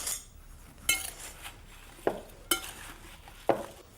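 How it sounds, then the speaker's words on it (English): Apple pie spices, including a pinch of allspice, being stirred together in a bowl, giving a few separate clinks and scrapes of a utensil against the dish at irregular intervals, fairly quiet with no talking. "And then I'm just going to mix it all up."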